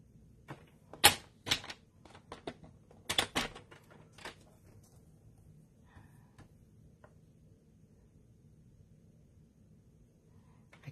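Paper trimmer slicing through glitter paper, a few sharp clicks and cutting strokes up close in quick bursts, then trailing off into quiet.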